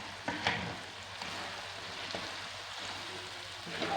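Fried okra (bhindi) sizzling in besan masala: a steady, close hiss of frying with a few brief crackles and stirring scrapes.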